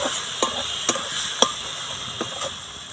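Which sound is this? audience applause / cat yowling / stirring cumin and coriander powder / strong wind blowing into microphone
stirring cumin and coriander powder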